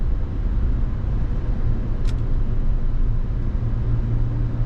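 Mazda CX-90 plug-in hybrid Premium Plus cruising in electric mode, a steady low road rumble and tyre hum filling the cabin without pause, with one brief higher tick partway through.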